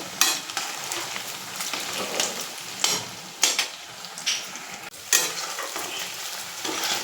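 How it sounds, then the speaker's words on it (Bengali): Paneer sizzles in hot oil with a steady crackle, broken by several sharp scrapes and clinks of a spatula turning pieces in the pan. "পনিরগুলো একটু উল্টে দিচ্ছি হালকা হালকা বাদামি কালারে এসে গেছে আর একটু ভেজে নেবো"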